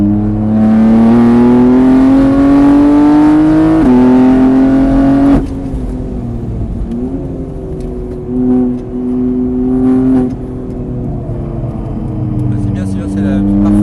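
A race car circuits a track, its engine droning loud and steady, pitch climbing through the gears, dropping at a shift and easing off, with someone talking over the engine on a radio throughout.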